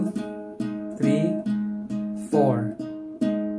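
Guitar double stops ring out in a steady rhythmic pattern, several two-note chords struck in sequence at a moderate tempo, clear and close.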